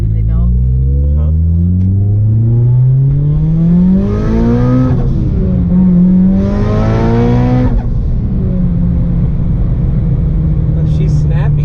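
A G-model car's engine revs up through rising gear pulls while driving on a road, loud and close inside the cabin, with two strong surges in the middle and people talking over it.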